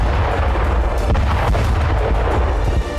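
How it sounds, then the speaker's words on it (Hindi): Explosion at a Russian weapons depot near a city's outskirts, a dense continuous roar of blasts and crackling detonations with a deep rumbling low end, loud and sustained throughout. "पहले धमाके में रूस का एक गोदाम तबाह हो जाता है"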